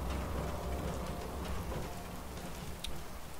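Steady rain falls in the video game Fallout 4, a dense continuous hiss of drops that stays loud and even with no voices over it.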